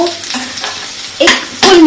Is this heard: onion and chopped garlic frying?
yes